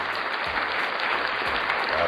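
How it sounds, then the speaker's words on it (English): A studio audience claps at a comedy talk show, a dense burst of applause heard alone, steady and moderately loud throughout. "Let me hear a clap."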